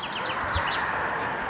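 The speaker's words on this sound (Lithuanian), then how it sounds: "Paukščiai čiulba, Birželio vidury." Birds chirp in short, bright calls near a 7.5 km lake in the Black Forest on a hot mid-June day, heard against a steady wash of outdoor background noise.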